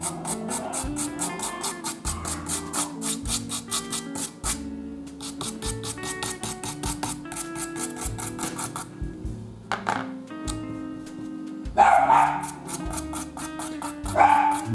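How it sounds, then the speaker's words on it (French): A dog barks now and then somewhere nearby, partly buried under continuous background music with a steady beat while a Hanomag model diorama is assembled; no one speaks. "le chien aboie, vous entendez tout à la vidéo"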